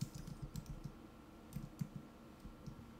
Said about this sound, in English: So you can go ahead and type that in there like that.